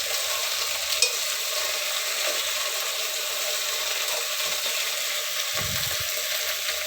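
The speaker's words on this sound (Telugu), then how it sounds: "బెండకాయలు వేసేసానండి. ఇక కలియబెడదాము అంతా." Okra is stirred with onion in hot oil, a steady close sizzle with faint scraping of the spoon throughout.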